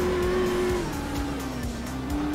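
A high-revving BMW M1 Procar rally car engine in the video game Art of Rally drones steadily, pitch dipping slightly then rising again, with faint tire noise underneath.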